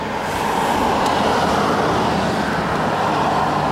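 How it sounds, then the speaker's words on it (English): Continuous roar of passing cars and heavier vehicles on a busy road, a dense broadband wash heard from inside a silent electric car stopped in traffic, with no talking. "all you can hear is the other cars making lots of noise"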